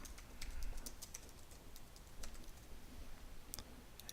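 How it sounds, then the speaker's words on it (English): Typing on a computer keyboard while entering a page title in a Concrete5 website editor, a steady run of light clicking keystrokes with a few sharper taps, fairly quiet and with no talking. "I'm going to type out a title for it"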